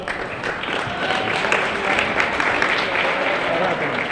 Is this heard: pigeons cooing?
no